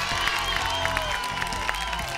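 Pasapalabra studio audience clapping steadily with light cheers, a full, even round of applause over a music bed.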